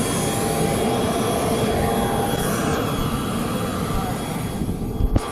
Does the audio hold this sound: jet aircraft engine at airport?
yes